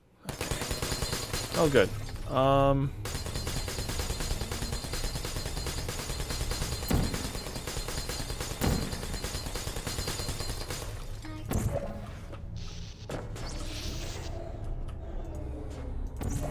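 Gunfire in the video game Destiny 2, rapid bursts of shots rattling steadily throughout with a louder flurry early on, mixed under a voice speaking briefly.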